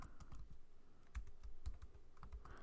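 A computer keyboard clatters with quick, irregular clusters of close key taps while someone types HTML code, fairly quiet and with no talking.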